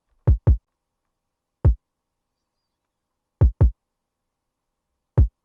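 Deep booming kick drum from a trap beat, six punchy low thumps in irregular pairs and singles separated by silence, heard alone without other instruments or voices.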